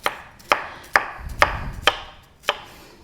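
Six sharp knife chops on a cutting board as fragrant ingredients are cut into pieces for Caribbean curry chicken, spaced about half a second apart, close and distinct with quiet kitchen noise between.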